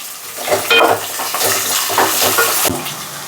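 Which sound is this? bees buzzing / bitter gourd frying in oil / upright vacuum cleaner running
bitter gourd frying in oil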